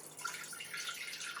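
Water trickles and splashes faintly as it is poured into a container for vinegar pickling brine, a soft continuous pour with bright dripping detail, heard close and alone.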